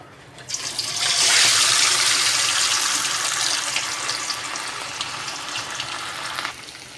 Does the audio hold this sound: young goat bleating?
no